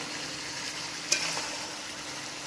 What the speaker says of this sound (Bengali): একটু একটু করে গরম জল দিয়ে এটা কষিয়ে নেব